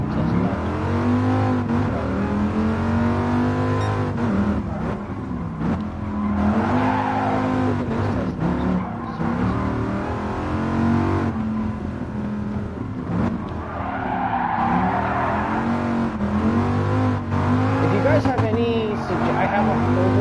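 A race car, apparently a Viper, roars around a test lap in Gran Turismo, engine revving and droning steadily with brief tire squeals as it accelerates and brakes, under continuous talk.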